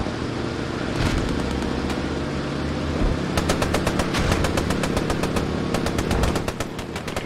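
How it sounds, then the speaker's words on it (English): Sustained gunfire in Post Scriptum, loud rapid machine-gun bursts in regular rhythm over a constant rumble, with scattered distant shots between. "we're getting shot from the south"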